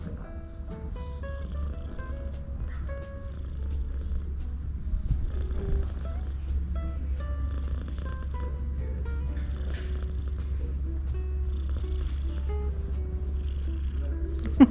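A cat purring steadily and low, close and continuous for the whole stretch, with a few faint scattered noises around it and no talk.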